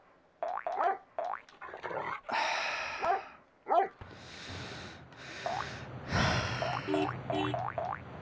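Dogs in the Frogger 1997 video game let out a string of sharp, bouncy barks and yelps in quick irregular bursts, with short pauses between them and a few cartoonish boing-like sounds mixed in.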